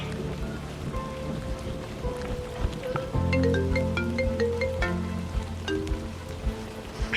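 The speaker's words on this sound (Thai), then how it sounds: "ฝนตกแล้วเนี่ย" Rain falls in a steady hiss of drops pattering on surfaces, with sustained tonal music layered over it throughout and no voices.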